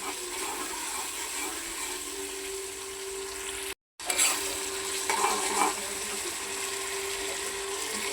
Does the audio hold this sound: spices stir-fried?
yes